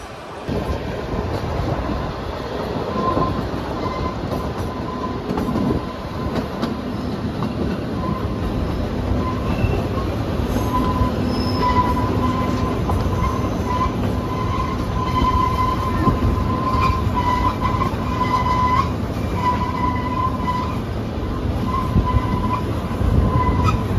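Shimla toy train rolling along its rails, a steady continuous rumble of wagons with faint metallic wheel squeal running throughout, fairly close and with no voices.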